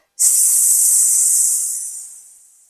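A voice imitating a whistling tea kettle: one loud, sustained breathy hiss that starts abruptly and slowly fades over about two seconds.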